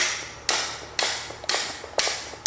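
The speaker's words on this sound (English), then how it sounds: "Claw hammer." Claw hammer striking metal on an abandoned 1956 Chevy project, five sharp, evenly spaced blows about half a second apart, each ringing briefly, close and loud with no talking.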